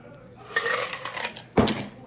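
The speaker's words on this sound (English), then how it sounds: "we're gonna strain it into the rocks glass" A bourbon cocktail is strained from a shaker into a rocks glass, with brief clinking of ice and metal and a short rush of pouring liquid near the end.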